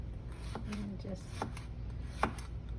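Knife cutting zucchini on a board in a home kitchen, a few soft separate chops at uneven spacing, quiet and close, with people talking faintly around it.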